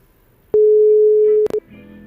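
A single steady electronic telephone tone sounds for about a second, loud and clean, then cuts off with a couple of short clicks and beeps, as if a phone line connects or drops.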